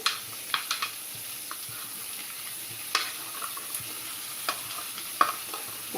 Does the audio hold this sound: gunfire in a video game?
no